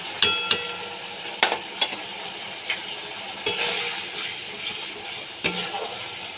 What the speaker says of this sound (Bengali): জিরে গুঁড়োটাকে দিয়ে ভালো করে আমি কষিয়ে নেব।